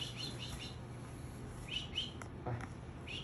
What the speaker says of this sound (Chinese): 我拍小鸟而已